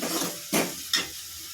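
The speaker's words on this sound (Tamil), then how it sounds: "லைட்டாக ஒரு கிளறி மட்டும் கிளறி விடுங்க" Tomatoes cooking down in a pan for Tamil-style drumstick dal sambar are stirred twice with a utensil, two short scraping swishes over a soft sizzle.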